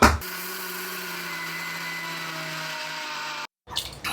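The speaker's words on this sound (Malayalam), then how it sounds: "ഇത് 2 പ്രാവശ്യമായിട്ടിട്ട് അരച്ചെടുക്കാം." A mixer grinder grinding palappam batter, a loud, steady motor whine with a constant hum that runs for about three seconds, cuts off abruptly, then restarts briefly.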